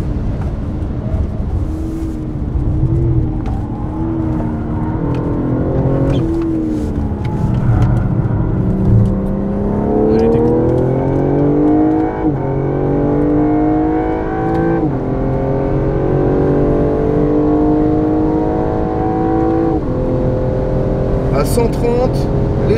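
A 635-horsepower BMW M5 CS is driven hard on a track, its engine note climbing and falling through repeated loud acceleration runs. Voices talk over the engine from inside the car.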